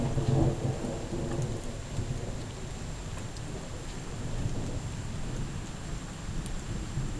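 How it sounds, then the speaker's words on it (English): Rain falls steadily outdoors near a garage on a hot day, a soft continuous hiss with low rumbling that swells a little toward the end, faint and alone. "And the rain's picking up a little bit."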